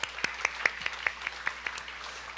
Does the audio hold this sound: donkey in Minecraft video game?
no